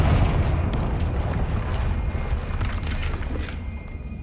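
A Confringo blasting spell explodes in Hogwarts Legacy, a loud rumbling boom at the start that fades into a long decaying roar, with a few faint crackling pops after.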